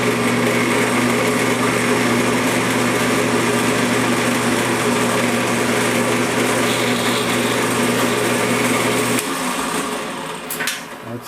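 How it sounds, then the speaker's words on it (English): Power drill boring a canted axle hole in a pinewood derby car block, a steady high-pitched motor whine running for several seconds before slowing and stopping, close and loud with no talking. "I just drill it canted to make sure it stays off"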